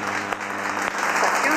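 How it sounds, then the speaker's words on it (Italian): Dense, steady applause from an Italian television studio audience fills the whole stretch, loud and close, with a few sharper individual claps standing out briefly. "C'è l'applauso."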